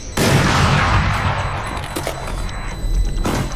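Gunfire in the video game Valorant, a dense sustained burst of shots starting abruptly and continuing loud throughout, with a heavier thump near the end.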